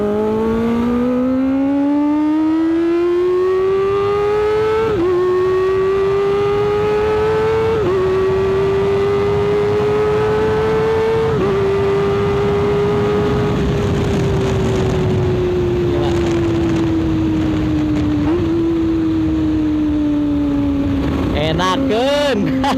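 Kawasaki ZX25R motorcycle fitted with a new aftermarket exhaust, revving hard and loud at close range in long rising pulls with brief shift dips, a high, screaming tone, and a voice speaking under the engine at times.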